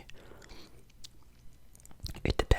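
Cheetos Puffs being eaten close to the mic: quiet moist mouth sounds and soft whispery breaths, then a burst of loud crunchy bites and chewing toward the end.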